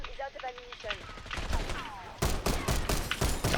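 Pistol fire in a shooter video game played on mouse and keyboard pops in a rapid run of sharp shots over game ambience, with a voice talking beneath.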